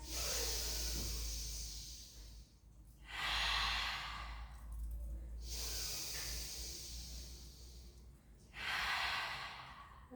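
Slow, deep breaths during a barre pilates floor exercise, with three long, airy hissing inhales or exhales spaced a few seconds apart over a steady low hum, close and clear with no talking.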